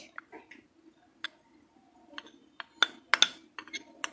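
A spoon stirs cornflour into milk in a glass or cup for mango pudding, a series of close, light clinks and taps that quicken toward the end, with brief talk in the background.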